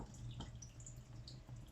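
Salt brine poured over onions, a soft, faint trickle and splash of liquid lasting under two seconds, with no voices.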